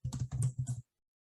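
Several quick keystrokes on a computer keyboard, a short soft burst of clicks, close and isolated, followed by silence.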